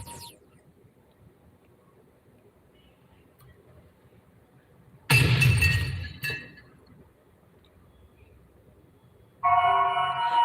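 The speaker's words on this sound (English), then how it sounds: "When that glass sound come on." Glass shatters loudly in a short burst with scattered tinkling fragments, then after a few seconds of quiet a second bright crash of breaking glass cuts in, used as a sound effect in an old video intro.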